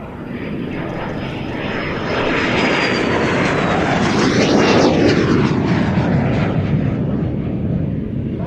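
A de Havilland Vampire twin-boom jet aircraft with a Goblin engine roars past, swelling to a loud, sustained rushing jet noise with a sweeping pitch shift mid-pass before easing slightly, with no voices.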